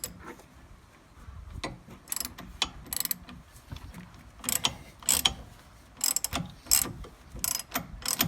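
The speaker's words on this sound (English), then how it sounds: "and then I can use my wrench to free that out and get that out" A wrench works loose a rear strut on a 2002 Pontiac Grand Prix near the sway bar. Rapid ratcheting clicks come in irregular bursts, mixed with metallic clanks and knocks, close by and with no voices.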